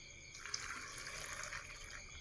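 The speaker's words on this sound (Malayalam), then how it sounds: "നമുക്കിതിലേക്ക് വെള്ളം ഒഴിച്ച് കൊടുക്കാം" Water pours steadily into a cooking pot of lentil and raw plantain curry with a bright, hissing splash lasting a couple of seconds, no voices present.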